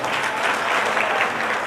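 An audience claps loudly at an Independence Day gathering, a dense, even burst of applause with no talking over it.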